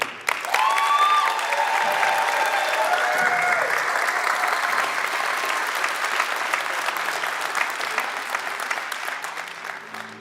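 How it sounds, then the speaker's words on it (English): Rally crowd at a UAW Local 2093 American Axle kick-off giving a loud, sustained ovation, dense applause and cheering that holds for about ten seconds and slowly tapers, with a brief voice at the start. "I want you to give him a loud ovation"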